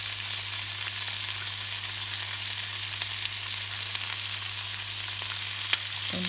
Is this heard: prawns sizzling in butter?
yes